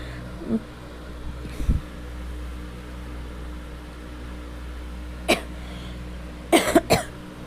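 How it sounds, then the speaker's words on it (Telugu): A person with a sore, phlegmy throat coughs several times over a steady hum of room noise, with one faint early cough, a single sharp cough midway and then a close burst of three quick coughs. "ఎక్కువ మాట్లాడితే దగ్గు వచ్చేస్తుంది"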